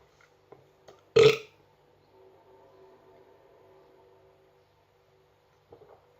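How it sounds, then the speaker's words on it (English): A single loud burp erupts near the start while drinking Faxe extra strong beer, followed by faint background hum and a couple of small knocks. "if I burp, sign of a good beer"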